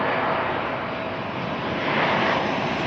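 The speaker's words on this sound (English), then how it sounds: "I think I see a Dreamliner already taking off." A Boeing Dreamliner jet airliner takes off at Amsterdam Schiphol, its engines making a continuous, even roar at steady loudness.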